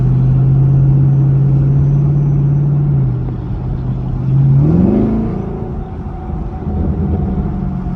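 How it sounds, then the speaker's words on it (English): A Chevrolet Camaro ZL1 sports car exhaust hums with a loud, steady drone, then swells in a short rev and settles back to a deep rumbling idle, close up with no talk. "That exhaust is nasty."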